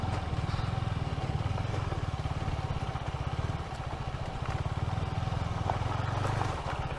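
A Husqvarna Svartpilen motorcycle coasting in second gear through city streets, its engine giving a steady, close, low pulsing throb with light mechanical clatter throughout.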